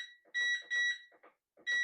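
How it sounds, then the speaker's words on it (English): A gluten-free bread maker beeps in quick short bursts, a high steady tone repeating about four times with brief pauses, close and fairly loud, no talking. "Lots of beeping"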